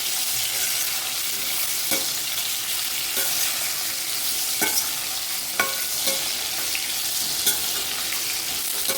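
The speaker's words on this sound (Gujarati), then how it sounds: "એ પણ આપણે ફ્રાય કરી દઈશું મીડિયમ ગેસની ફ્લેમ ઉપર." Potato slices frying in oil with mustard seeds, cumin and asafoetida over a medium gas flame, giving a dense continuous sizzle dotted with small crackles and occasional stirring clicks, close up.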